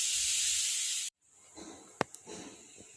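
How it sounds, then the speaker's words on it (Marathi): Water poured into a hot pan of sponge gourd curry bursts into a loud, bright hiss that cuts off abruptly, followed by quieter bubbling and a couple of sharp clicks. "थोडंसं पाणी टाकून थोडीशी वाफ येऊ द्यायची गिलक्याच्या भाजीला."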